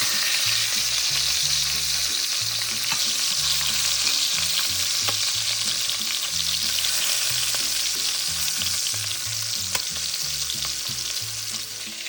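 Pork ribs browning in a pan sizzle loudly and steadily, a dense hiss of hot fat with small pops and crackles, heard alone and close up.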